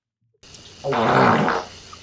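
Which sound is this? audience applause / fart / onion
fart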